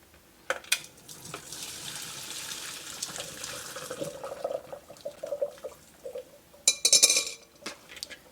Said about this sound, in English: Pasta is done, so I'm gonna get that strained.